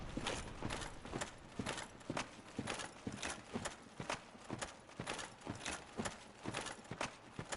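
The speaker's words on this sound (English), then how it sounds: "Okay, I hear his footsteps." Heavy armored footsteps of the Black Knight in the Dark Souls video game, a steady clip-clop rhythm of evenly spaced thudding steps, crisp and repeated across the whole stretch with no voices over them.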